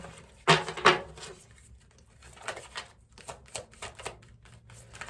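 Oracle cards are shuffled by hand in sharp, riffling bursts: two loud flutters close together, then lighter taps and shuffles trailing off in the quiet.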